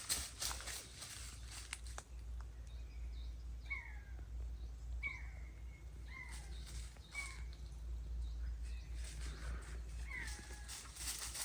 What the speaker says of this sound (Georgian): კატა არა, მაგრამ თითქოს რაღაცის ლეკვის ხმა არის.